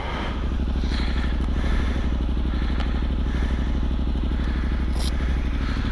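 A Yamaha Ténéré 700 motorcycle engine drones steadily at close range while riding, with a faint rattle and occasional clatter on top.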